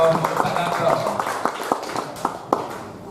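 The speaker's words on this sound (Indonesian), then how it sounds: "Tepuk tangan Pak Darto." At an anniversary celebration and Halal Bihalal gathering in a grand ballroom, scattered audience claps pop out at irregular intervals beneath ongoing amplified speech, growing more distinct toward the end.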